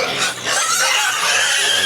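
Hungry breeder pigs grunt and squeal continuously at close range, a dense, loud, steady chorus of animal noise with no talking.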